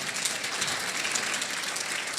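A crowd at a chamber of commerce awards gala gives a round of applause, an even, continuous roar of many hands clapping throughout, moderately loud with no voices.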